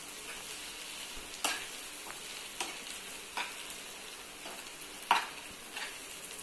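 Tomatoes fry softly in a pan for tomato chutney, with occasional scrapes and stirs of a spoon, quiet and close, no voices.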